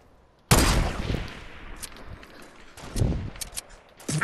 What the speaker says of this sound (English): I'm just shooting random places,